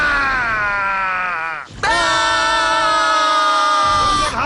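A group of boys at a Beyblade training session shout together in one long sustained yell, breaking off briefly and then roaring again even louder, close and unbroken.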